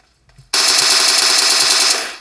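Sustained rapid automatic gunfire from a mobile video game, a dense loud burst of continuous shots that starts abruptly and holds for nearly two seconds before tailing off.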